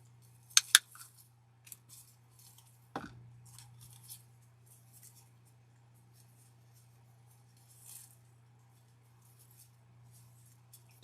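Scissors snip while a door hanger wreath is being made, giving a pair of sharp close cuts near the start and another snip a few seconds later, over a low steady hum and faint rustling.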